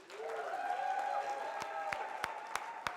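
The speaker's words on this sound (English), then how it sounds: "Let's give Amina and John a big round of applause." Audience applause at a public speaking event, a steady wash of clapping with a few sharper nearby claps standing out toward the end, while a faint tonal hum and voices linger underneath.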